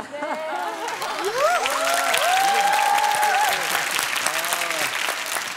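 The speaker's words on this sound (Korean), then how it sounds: "지금 박수 치실 때가 아닙니다." A studio audience on a Korean television show applauds loudly and steadily throughout, with voices calling out and cheering over the dense clapping.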